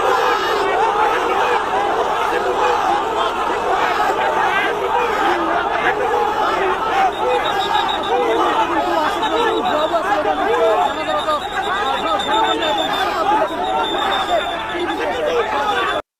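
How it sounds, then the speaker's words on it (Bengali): A large crowd of protesters chanting "bhuya bhuya" (fake, fake) slogans, a loud, continuous mass of shouting voices with rhythmic chant pulses and babble, close and filling the scene. "ভুয়া ভুয়া স্লোগান দেয়।"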